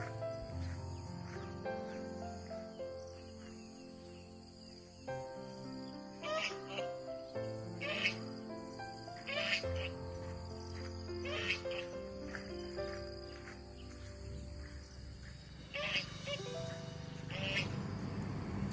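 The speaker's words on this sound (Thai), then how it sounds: "สียงที่ได้ยินเป็นเสียงของห่านนะครับ" Geese kept at a Ratchaburi resort give repeated honking calls at moderate distance, some overlapping and spread over several seconds, against a faint outdoor background of insects.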